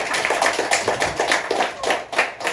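Light, uneven hand clapping from a small audience in a hall, a quick patter of claps at moderate volume with no voices over it.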